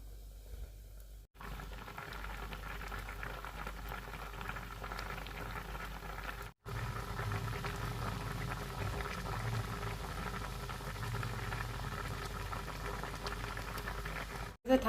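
A pot of papaya curry with garlic and chilies simmers steadily, a close, continuous bubbling hiss broken by two brief cuts, with no voices over it.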